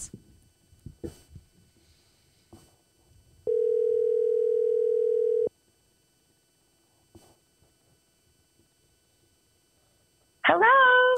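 One steady electronic ringback tone on a phone line lasts about two seconds, followed by quiet line hiss; a voice answers briefly at the very end.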